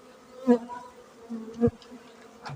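Honey bees take flight near a hive on a mild January day, and a few individual bees buzz past close by in short, distinct passes against a quiet background.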